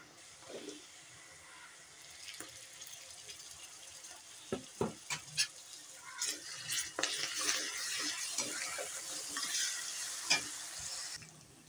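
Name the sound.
spices frying in a pan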